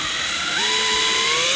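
A Fischer DuoLine two-component wall plug has its screw backed out, most likely with a power tool, whose loud whine rises steadily in pitch as it spins up.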